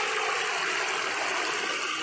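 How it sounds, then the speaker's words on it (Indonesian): A small waterfall rushes steadily, close and constant, with no voices. "Ini air terjun kecil teman-teman."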